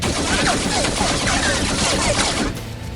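Continuous rapid gunfire from car-mounted weapons in a Gaslands tabletop racing game sound effect, a loud dense barrage that cuts off abruptly near the end.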